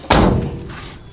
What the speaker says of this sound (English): let me shut the door for the full effect